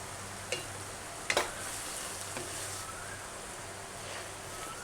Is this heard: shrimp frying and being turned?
yes